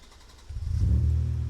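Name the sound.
car engine starting and revving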